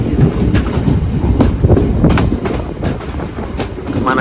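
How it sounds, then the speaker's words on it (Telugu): Narsapur to Bhimavaram MEMU Express train running, with a loud, steady rumble and a rhythmic clickety-clack of wheels over rail joints, heard close up from on board with no talking. "మన ట్రైన్ అయితే ఫస్ట్ స్టేషన్గా పాలకొల్లు వచ్చిందనమాట"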